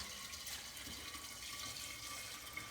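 Liquid poured through a big funnel into the top opening of a still during a rum run, a faint, steady watery rush that runs unbroken for a few seconds with no talking.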